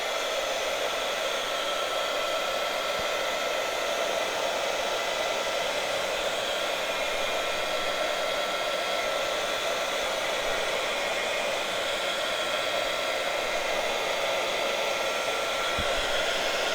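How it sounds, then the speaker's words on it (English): A hair dryer runs continuously to dry craft glue, a loud, steady blowing whoosh held close for the whole stretch without a break. "Let's use the actual dryer for a minute."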